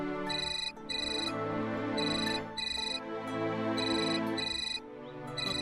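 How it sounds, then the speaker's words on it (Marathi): A mobile phone ringtone plays a repeating electronic melody in steady bursts with short gaps, loud and close, filling the whole stretch with no talk over it. "वहिनींचा फोन मला आलाय"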